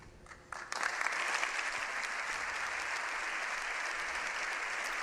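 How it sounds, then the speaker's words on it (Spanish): Members of the Spanish Congress and Senate give a sustained ovation welcoming Pope Leo XIV in the plenary chamber in Madrid, steady dense applause rising after a brief quieter start and holding loud throughout. "la primera ovación de los miembros del Congreso y Senado de bienvenida al Papa León XIV."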